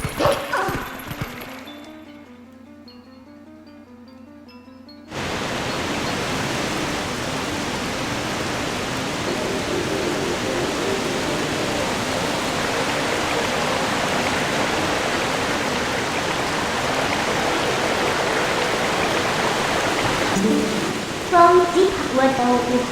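Rushing water and a waterfall roar in The Legend of Zelda: Twilight Princess, a steady broadband wash that starts abruptly after a quieter opening and holds at an even level, with a few brief tonal game sounds near the end.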